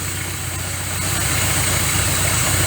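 A cold car engine idles steadily and close by while its carburetor mixture screw is slowly turned counter-clockwise, a loud continuous rumble with a faint rising hiss and no voices.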